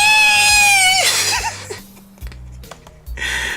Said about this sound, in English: The shrill scream and the expression of abject terror in Kenji's face chill my blood.